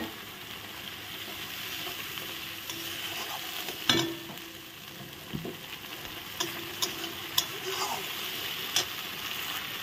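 Spice paste with a splash of water frying in a pan as it is stirred, giving a continuous close sizzle with occasional sharp taps and scrapes of the spoon.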